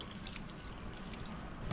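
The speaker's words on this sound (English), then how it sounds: "Add the reserved pasta water." Reserved pasta water pours steadily onto spaghetti for carbonara in a soft, continuous rush, fairly quiet and close, without a break and with no voices.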